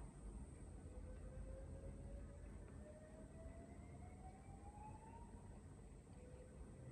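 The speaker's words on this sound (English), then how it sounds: "Weird siren going off." A strange siren wails in the distance, probably from a school, its faint rising tone sliding slowly upward over steady background noise with no voices.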